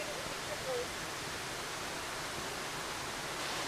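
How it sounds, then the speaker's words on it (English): Yellow Branch Falls in Walhalla, South Carolina, running full and strong, gives a steady broadband rush of falling water, continuous and even throughout, with no distinct individual splashes. "Here's our first view of the waterfall area."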